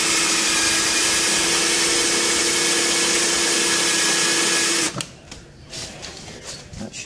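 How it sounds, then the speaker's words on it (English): A drill fitted with a countersink bit with a built-in stop whirs loudly and steadily against an aluminium wing cover for about five seconds, then cuts off abruptly, leaving quiet handling noise. "countersink with a built-in stop."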